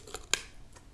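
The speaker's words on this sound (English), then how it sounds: "I'm just going to snip that wire." Small cutters snip the fine wire holding metal medallion stampings onto a card, one crisp close click with a couple of softer ticks around it, quiet and alone.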